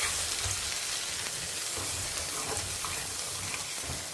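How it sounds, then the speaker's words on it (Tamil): Mustard seeds and urad dal frying in hot oil in a home kitchen, a continuous close hiss and crackle with occasional small pops, steady and fairly loud throughout. "கடுகு உளுத்தம்பருப்புலாம் பொரிஞ்சு செவக்க ஆரம்பிச்சிடுச்சு."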